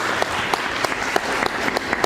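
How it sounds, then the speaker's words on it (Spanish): Audience applause after a talk by a Peruvian writer on violence in Peru, a close burst of clapping from a modest indoor crowd with some individual claps standing out sharply. "Los aplausos, por favor,"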